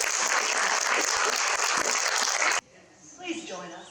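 Dense audience applause honors Year 12 graduates at a 2020 graduation ceremony, steady and loud for about two and a half seconds before cutting off abruptly, leaving quieter room sound and a voice speaking.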